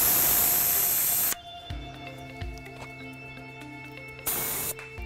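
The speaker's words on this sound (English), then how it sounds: "if your tire's too hard, you want to let some air out" Short burst of air hissing from a pressed valve stem on a mountain bike tire that is too hard, loud and close, cutting off, then faint clicks and low hum before a second brief hiss near the end.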